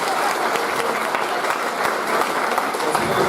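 A church congregation at a Sunday service breaks into sustained applause, a dense even wash of many hands clapping together, steady and fairly loud across the whole stretch.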